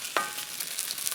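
Argentine asado blood sausage sizzles on a SmokeSlinger grill, giving a soft, steady crackle with one brief sharper pop near the start and no voices.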